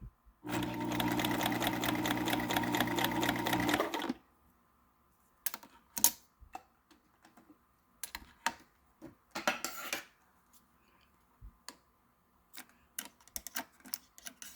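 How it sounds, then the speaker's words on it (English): A sewing machine stitches heavy cloth for a cabin window cover, running steadily and loudly for about four seconds, then stopping. Scattered handling clicks and short bursts of fabric and machine noise follow. "So the machine handles this heavy cloth just fine."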